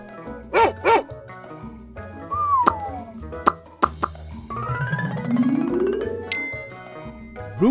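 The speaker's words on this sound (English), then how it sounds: "Dog." A dog barks twice in quick succession near the start, followed by playful plops, dings and sliding tones.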